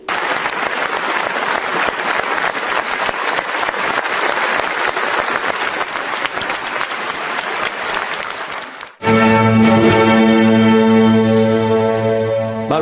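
Long, loud applause for President Mattarella at La Scala, a dense, sustained roar of clapping from a large audience that cuts off abruptly into a sustained musical chord.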